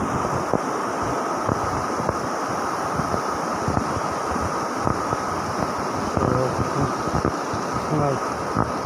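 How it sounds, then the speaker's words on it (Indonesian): Continuous rushing of a river flowing near a footbridge, a broad steady wash with intermittent wind buffeting the microphone and small knocks scattered through. "Inilah sungai di tempat kami ini"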